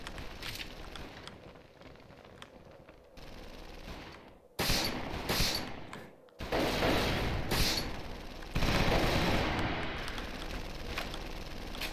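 In the video game XIII Remake, an assault rifle fires in bursts of loud clustered shots, broken by short gaps and brief quiet stretches, with no voices over it.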